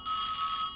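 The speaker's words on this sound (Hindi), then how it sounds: "तुम्हारा ही फोन है, उठाओ" A telephone rings close by in an office, a bright electronic tone that swells in quickly and holds steady before easing slightly, with no one speaking.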